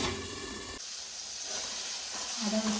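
Ground spice masala with fried ginger and garlic sizzling in a pan over a low gas flame for a potato chicken curry, a soft steady hiss that sharpens into a brighter sputter near the end.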